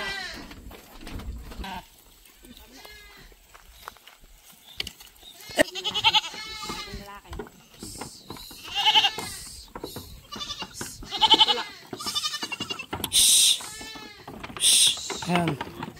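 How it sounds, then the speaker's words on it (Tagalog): Goats on a goat farm in Gabaldon bleat repeatedly as they are herded into their pen, several loud nearby calls overlapping and recurring in bursts, with a person talking between and under them. "So tara, papasukin man natin yung mga kambing."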